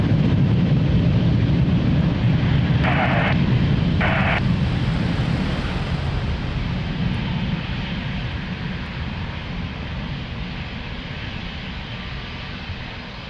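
Airliner taking off from a runway at Lisbon Airport, a loud, steady broadband jet engine roar that holds throughout and slowly fades as the aircraft moves away.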